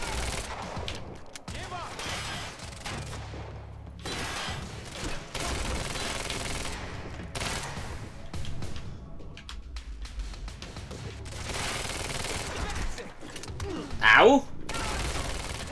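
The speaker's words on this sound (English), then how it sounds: "Why are they still shooting?" Bursts of automatic gunfire and scattered shots ring out in a Quantum Break firefight, coming in loud waves with pauses between, while characters shout and talk over the shooting.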